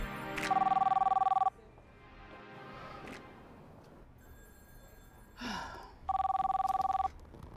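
A telephone bell rings in two loud bursts of about a second each, with a quiet gap of breathing and room sound between them, no talk during the rings.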